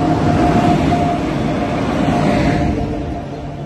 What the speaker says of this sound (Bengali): এবার আমার ট্রেনটি চলে এসছে।